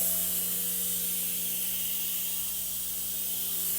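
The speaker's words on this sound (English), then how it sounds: "What we have here is just like a Halloween smoke maker. So turn it on." A Halloween smoke machine sprays a continuous, loud hiss with a steady low hum beneath it, unbroken from start to end with no voices.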